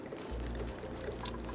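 Water pours in the Oxygen Not Included video game as a steady, continuous rush that fills the whole short moment, with no voices over it.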